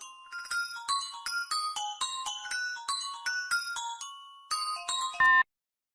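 A bright electronic phone ringtone plays a repeating chiming melody of quick tones for several seconds, then cuts off abruptly.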